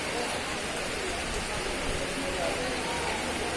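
Heavy rain pours steadily onto a railway station platform in Dinajpur at night during a storm, a dense, even hiss close by with no break across the whole stretch.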